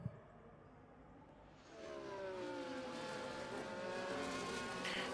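Formula 1 cars in a racing game on the Miami circuit, a faint engine note rising into a sustained high whine as a car powers down the straight, building and holding loud to the end with no talk.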